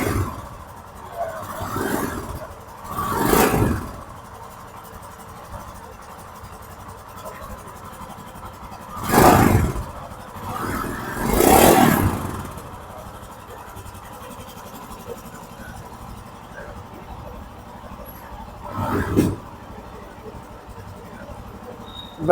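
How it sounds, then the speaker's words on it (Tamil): A Royal Enfield Scram 440 motorcycle engine is revved several times while idling, each throttle blip swelling into a short roar and falling back, four or five separate rises over a quiet, steady idle. "ஸோ இன்ஜின் பவர் ரைட்டாக ரெவ் பண்ணி பார்த்துருவோம். இந்த வண்டியோட ஐடியல் சவுண்ட் இது தான்."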